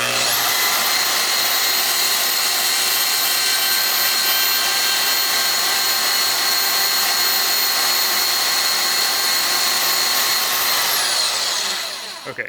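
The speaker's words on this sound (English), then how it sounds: "Okay, so that's the cut with the plasma cutter." Plasma cutter slicing through a piece of aluminum, a loud steady hissing roar that holds for about eleven seconds and then trails off, with no talking.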